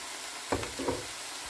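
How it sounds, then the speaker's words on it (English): Mushrooms and onions sautéing in a pan for vegan tacos: a faint, steady sizzle with two short scraping stirs of a utensil in the middle, no talk. "Alright, I've added some mushrooms to my onions."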